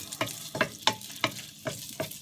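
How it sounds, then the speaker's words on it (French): Vegetables simmer and sizzle in a pan, with a soft frying hiss broken by six or seven rhythmic scraping stirs at roughly even intervals, close and moderately quiet, with no voices. "On attend que ça mijote un petit peu là, que ça soit un peu plus fondu"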